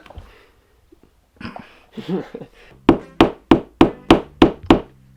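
After some soft murmuring, a hammer strikes a wall eight times in a steady, evenly spaced rhythm while mounting skateboard decks, each blow sharp and close.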